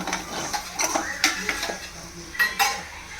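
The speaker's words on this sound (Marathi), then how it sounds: "आता आपण प्रॉपरली मिक्स करून घेऊ." Spoon stirring and scraping a cashew and egg vegetable curry in a metal pan, with repeated close clinks and clatters at an uneven rhythm over a low background rustle, and no voices.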